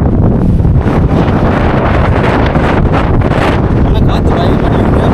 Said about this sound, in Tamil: ஆனால் காற்று பயங்கரமாக நிற்க முடியாதுங்க.